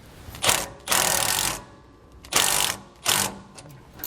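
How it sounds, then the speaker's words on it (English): Close ratchet clicking from a 15mm socket wrench tightening U-bolts during a steering stabilizer install on a 2019 Jayco RV, heard as four quick bursts of rapid clicks separated by short pauses, with no talk. "Then tighten down your U-bolts using a 15mm socket or wrench."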